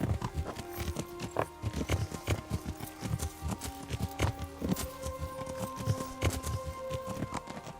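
Hoofbeats of a horse in Kingdom Come: Deliverance patter in a continuous trotting rhythm, close and clear, no voices.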